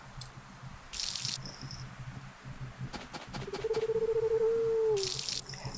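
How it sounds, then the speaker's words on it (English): Watering crops in the GameCube farming game Harvest Moon: Another Wonderful Life: splashy water bursts at the start and end, with small clicks and a sustained tonal chime in between. The game sounds play alone and clearly, without talk. "Let's water the crops."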